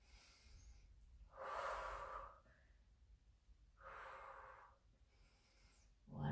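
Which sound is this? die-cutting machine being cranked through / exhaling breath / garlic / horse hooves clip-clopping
exhaling breath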